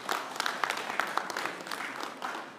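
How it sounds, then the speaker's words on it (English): Audience applause at a banking and finance conference, a steady patter of many hands clapping throughout, moderately loud and fairly close, with no speech over it. "I believe you should give a round of applause for the incident."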